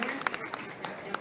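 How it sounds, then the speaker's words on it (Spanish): Large crowd of roughly a thousand people applauding a talk at an outdoor book fair in Mexico City's Zócalo, dense clapping with scattered sharper claps, a voice speaking over it. "había cerca de 1000 o más personas aplaudiendo esta nota"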